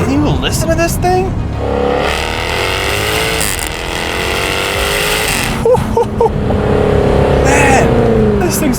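A Jaguar F-Type R with 575 horsepower revs hard as it accelerates, a loud, steady engine roar with rising pitch sweeps and gear changes, heard from inside the car with someone talking over it.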